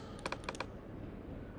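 A quick burst of about half a dozen computer keyboard keystrokes while renaming an object in Blender, crisp and close, then fading into a low room hum.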